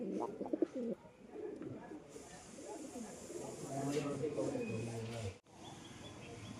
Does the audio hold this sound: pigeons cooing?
yes